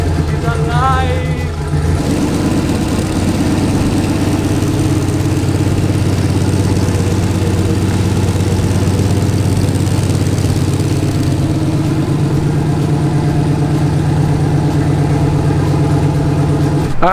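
Swapped 6.0 V8 engine running after a head gasket repair, a steady loud idle rumble with a brief revving start, close and continuous throughout.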